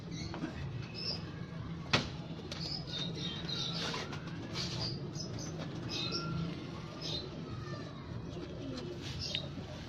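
Pigeons at a breeder's loft give soft, repeated coos and chirps, with one sharp burst of wing flapping near the start, while people talk quietly in the background.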